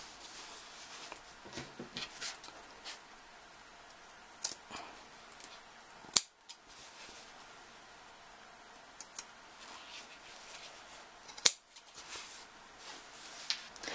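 Scissors make quiet, scattered little snips into fabric for a clam-shaped makeup pouch, with a couple of sharper clicks standing out against near silence.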